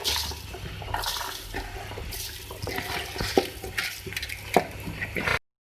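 Rice poured into boiling yakhni stock for beef biryani, a continuous watery rush and bubbling with occasional clinks and knocks, close and steady before cutting off abruptly.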